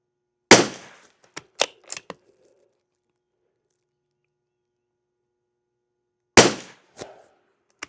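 Rifle firing CCI SV rounds at targets: a sharp, loud shot near the start followed by a few quick metallic clacks, a long silence, then a second loud shot with more clatter after it, no talking.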